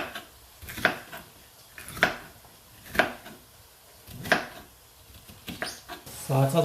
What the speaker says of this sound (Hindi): तो मैं काट देता हूँ बाकी की इतनी देर में।